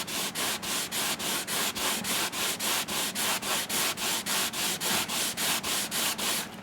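Hand sanding of a plastic model figure scratches back and forth in a steady rhythm, about three strokes a second, close and even, with no talking.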